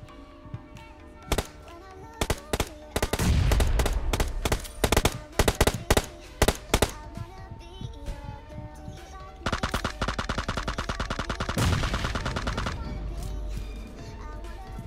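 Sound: gunfire in video game PUBG Mobile

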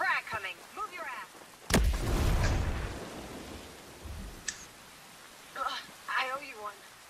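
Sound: frag grenade explosion in video game Ghost Recon Breakpoint

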